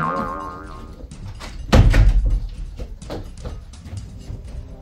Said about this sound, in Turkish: ben kapıyı kapatayım